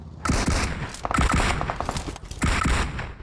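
Rapid bursts of video game gunfire, loud and close, with repeated sharp shots in clusters and brief pauses between volleys.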